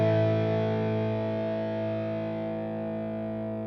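An electric guitar played through a Mosky M series germanium fuzz pedal holds one thick, buzzing, distorted note that sustains for several seconds and fades only slightly, with no other sound.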